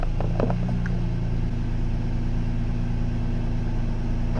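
A car engine idles steadily while a Jackery Explorer 240 v2 portable power station recharges through a 12-volt car port, giving an even low hum with faint clicks near the start and no talking.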